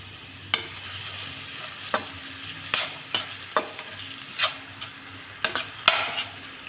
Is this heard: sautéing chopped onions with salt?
yes